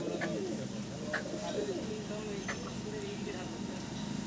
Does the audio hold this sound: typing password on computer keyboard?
no